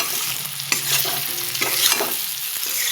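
Ground cumin and coriander powder frying in oil for a rohu fish curry, a loud continuous sizzle broken by several scraping stirs, close and with no voices.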